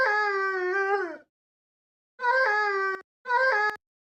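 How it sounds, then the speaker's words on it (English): A dog howls in three drawn-out tonal wails, the first long, followed by two shorter ones after a pause. The howls are close and clear, with no talking. "Oh, is there a howl?"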